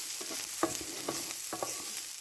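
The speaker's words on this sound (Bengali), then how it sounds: "কাঁচামরিচটা দিয়ে আবারও নাড়াচাড়া দেবো।" Onion, garlic and green chili fry in a little oil for a mashed bhorta, a steady sizzle broken by several sharp scraping stirs at close range, with no voices.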